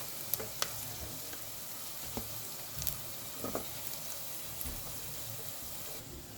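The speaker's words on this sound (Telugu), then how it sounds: "ఇలా తిప్పుకుంటా ఫ్రై చేయాలమ్మా." Chicken pieces fry over a low flame in a pan, a faint, steady sizzle broken by a few soft clicks and bubbling pops as they are turned.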